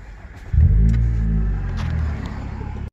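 A 2013 Nissan Altima engine with a muffler delete cranks and fires up with a loud, deep rumble, then settles into a throaty, steady idle.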